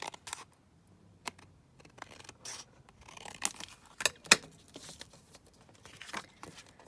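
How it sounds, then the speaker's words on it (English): Scissors snip paper for a crafted double envelope pocket. Several quiet cuts and rustles come close but faint, with a few sharper snips in the middle. "Snip that down there."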